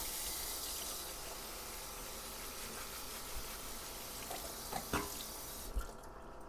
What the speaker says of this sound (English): Wash my knife a little bit.